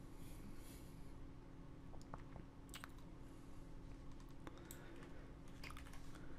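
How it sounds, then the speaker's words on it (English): Quiet, irregular clicking of keys on a computer keyboard, bursts of typing with short pauses, under a faint steady hum. "Save you sitting there watching me typing"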